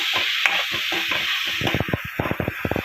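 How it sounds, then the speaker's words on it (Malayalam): Green chilies and onions fry in a pan over moderate flame, a close, steady sizzle broken by a rhythmic series of scraping stirs that grows busier toward the end. "ഇനി നമ്മൾ അതിലേക്ക് പച്ചമുളക് ഇടുന്നു."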